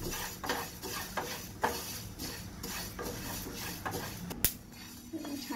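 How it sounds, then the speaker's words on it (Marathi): Fenugreek seeds dry-roasting in a hot pan, giving soft rattling and scraping stir strokes with a sharp metallic clink near the end, fairly quiet and close. "आता मेथी छान खमंग भाजून घ्यायचे आहेत।"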